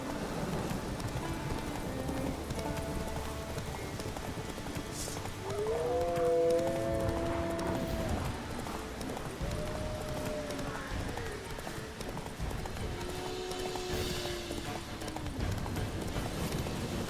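Roach the horse gallops in The Witcher 3 on PS5, rhythmic hoof clip-clops running throughout amid game ambience, with brief howling or whinnying calls and faint background talk.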